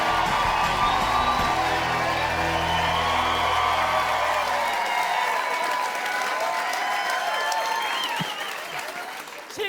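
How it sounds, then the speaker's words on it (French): A studio audience on a French-language television game show applauds and cheers for the two finalists, loud sustained clapping with whoops that gradually thin out over several seconds. "je vous demande de les applaudir, de les accueillir"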